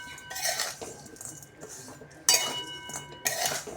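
A spoon clinks and scrapes against a pot while stirring a thick gooseberry pickle mixture with jaggery and whole spices, in irregular bursts of close metallic taps with quieter gaps between.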